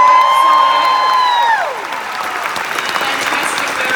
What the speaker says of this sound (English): an fantastic round of applause